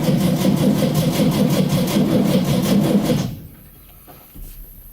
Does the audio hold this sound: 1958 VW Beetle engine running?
yes